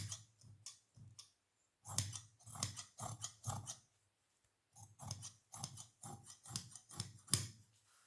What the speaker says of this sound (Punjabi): ਇਸ ਤਰ੍ਹਾਂ ਆਪਣੀ ਸਲਵਾਰ ਦੀ ਕਟਿੰਗ ਹੋ ਜੂਗੀ